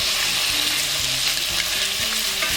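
Hoppin' John black-eyed peas stirred in a hot pan, a loud steady sizzle and frying hiss with faint scraping of the spoon running throughout.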